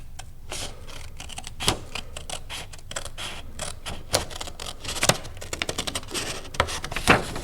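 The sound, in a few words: scissors cutting along a drawn line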